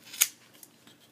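A single sharp snip of scissors cutting hair tangled in Dyson vacuum brush bristles, close and crisp, followed by a few faint small clicks and rustles.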